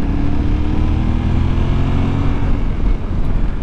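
The parallel-twin CP2 engine of a Yamaha Tenere 700 hums loud and close under steady throttle, a continuous low drone with a slight rise and fall and no speech.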